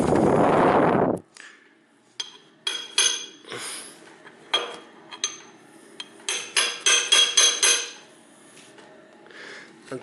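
A series of sharp metallic taps and knocks as a gasket is hammered into place on a driveshaft axle, some single and some in quick clusters, with a short burst of noise at the start and quiet pauses between.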